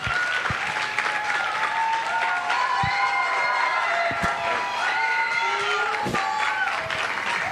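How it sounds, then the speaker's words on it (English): Audience at a church family service claps and cheers in sustained applause, steady and dense throughout with a few whoops and sharp individual claps standing out near the front. "Can we get one more round of applause for our beloved youth pastor?"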